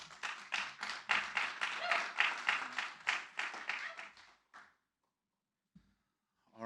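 A smallish audience gives a round of clapping for speaker Keanan Koppenhaver, close and distinct individual claps for about four seconds, then a short stop, near silence and a brief voice at the very end.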